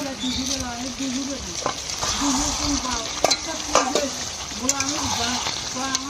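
Chicken is stirred and scraped as it sautés in a sizzling pan, with a steady loud fry and repeated rhythmic scraping strokes; someone talks over it now and then.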